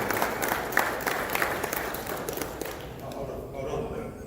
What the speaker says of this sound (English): I think we should have a round of applause for the newly turned pro, Marc Castro